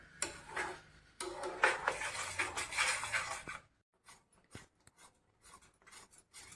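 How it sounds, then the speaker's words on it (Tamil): Sweet burfi mixture (a seven-cup sweet) is stirred in a pan over a low flame, giving a few seconds of close, steady scraping and rasping, then sparse, quieter clicks and scrapes. "இப்போ நான் ஒரு ஃபைவ் மினிட்ஸாக கிண்டிக்கிட்டே இருக்கேன்"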